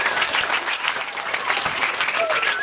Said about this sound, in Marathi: जोरदार टाळ्या वाजवूया आपण